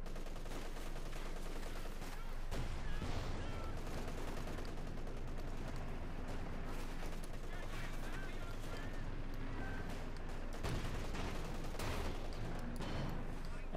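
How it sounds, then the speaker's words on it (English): Stuka rocket launchers firing a volley of six 28 cm rockets in a Company of Heroes 2 match, a continuous rumbling barrage with booming impacts and scattered gunfire under a commentator's voice. "There you go, Stukas firing, unleashing hell, 6 rockets."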